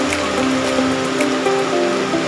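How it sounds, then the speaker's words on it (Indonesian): April rain falls steadily in the late afternoon, a loud, dense, unbroken hiss of drops with no voices over it. "ternyata ini bulan April hujan masih saja turun"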